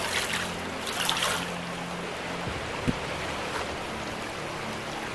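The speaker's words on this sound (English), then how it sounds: "just the rinsing of the mats for now" Sluice mats being rinsed with running water in the Gold Rush game, a continuous broad rushing and splashing wash with a low machine hum underneath that drops out partway, plus a single soft knock.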